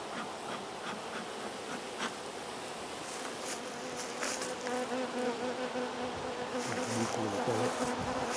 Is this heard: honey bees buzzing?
yes